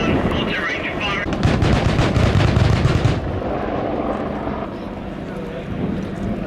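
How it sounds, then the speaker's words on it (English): An Apache attack helicopter fires its cannon during an air show display at the Royal International Air Tattoo, a rapid rattling burst lasting about two seconds over rotor and wind roar, with a voice talking over it. "my gun, auto range, fire"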